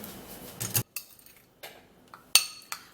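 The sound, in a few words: mixing paste ingredients in a bowl with spoon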